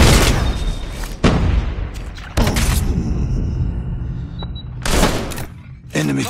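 A flashbang grenade goes off in Call of Duty Mobile, and sharp loud blasts punctuate the scene, with a high ringing tone lingering after one burst and intermittent talk between the bangs.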